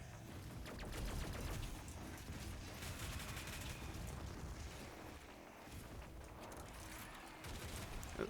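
Frantic combat in Doom Eternal, with dense bursts of gunfire mixed with explosions and heavy mechanical noise, a sustained loud wall of shooting and blasts with no talk.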